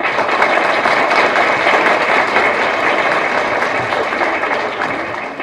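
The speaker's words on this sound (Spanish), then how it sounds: "el doctor Hernán Castillo Villalobos, para quien pido un fuerte aplauso" A lecture audience applauds the speaker at a keynote conference on kidnapping in Mexico, with loud, dense clapping that holds steady and then tapers slightly at the end.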